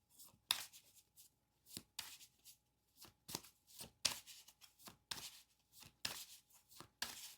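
Tarot cards being shuffled in repeated quick riffling bursts, close and fairly quiet, with short pauses between each run of crisp papery flutters and no talking.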